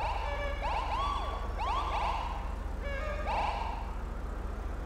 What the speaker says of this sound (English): Can you hear the different horn?